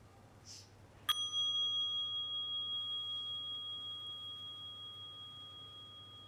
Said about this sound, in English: And I'll start by ringing the bell.